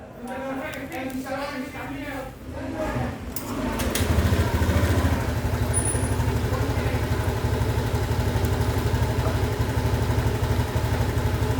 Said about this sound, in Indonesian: Coba kita hidupkan motornya.